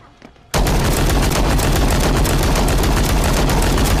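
An AK rifle opens up in a sudden, loud, sustained burst of rapid automatic fire that starts after a brief quiet moment and continues unbroken to the end.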